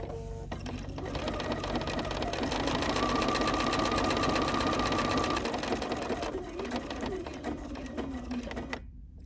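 A sewing machine runs a decorative triple stitch on a stitched postcard, a fast mechanical whirring and clatter that starts, holds steady for several seconds and then stops, with no talk over it.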